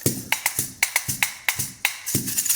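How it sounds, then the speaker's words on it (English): A stump fiddle, a stick rattle with nailed-on bottle caps, struck in a steady rhythm, about a dozen sharp jangling hits with a bright metallic shimmer, close and alone. "they call it a stump fiddle"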